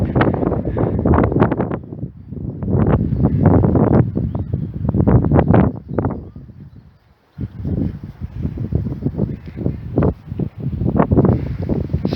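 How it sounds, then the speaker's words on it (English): Strong outdoor wind buffets the microphone, loud gusty rumbling roar that surges and briefly drops to near silence before returning. "when you feel this wind, you can understand"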